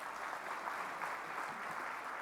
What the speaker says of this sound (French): Je vous demande de les applaudir très très fort.